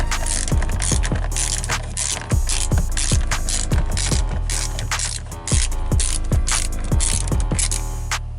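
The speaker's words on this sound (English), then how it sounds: "We're just trying to break the steering screws with a 10mm hex." A ratchet turning a 10 mm hex bit to break the steering lock screws on a Mercedes W204 clicks in a rapid, repeated rhythm throughout, close and clear over a steady background hum.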